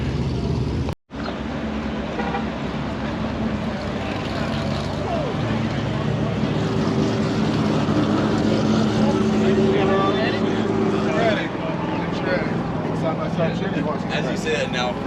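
A Toyota Supra drag car makes a pass at the TX2K 2023 drag racing event, its engine a steady, loud roar that holds throughout under people talking, with a brief cut near the start.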